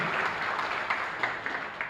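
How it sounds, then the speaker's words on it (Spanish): A congregation claps during Mass at the Capilla Divino Niño Jesús, giving a moderate, fairly even round of applause with a few sharper claps standing out, heard from some distance. "un fuerte aplauso al divino niño"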